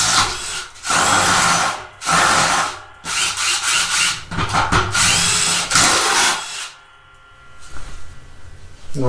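A Craftsman V20 brushless cordless impact driver bores a 1-inch spade bit into thick wood, loud whirring bursts of drilling in four or five runs with short pauses between, then trailing off into quieter rubbing at the end.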